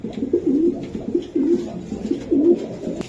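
A racer pigeon coos close by in repeated soft, throaty rolling phrases, several in quick succession with a steady rhythm and no talk over them.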